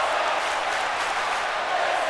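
A wrestling crowd in the WWE 2K video game roars in a steady, dense wash of cheering and applause, loud and continuous over the short stretch.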